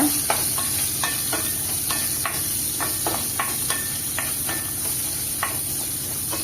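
Small onions fry in a pan for okra buttermilk curry, a constant sizzle broken by a regular series of spoon taps and scrapes as they are stirred, close and alone.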